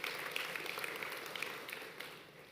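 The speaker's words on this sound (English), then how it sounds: "another round of applause for Mr." Audience applause at the 2024 HEFMA facilities management conference, a steady wash of clapping from a large crowd that fills the room evenly and tapers slightly toward the end, with no talk over it.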